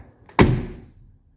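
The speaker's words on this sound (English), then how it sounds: "but watch how the door shuts" A 1984 Mercedes 300SD car door shuts once with a solid, close thud and a short fading ring, with no one talking.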